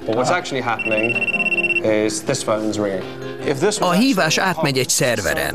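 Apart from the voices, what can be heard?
telephone ringing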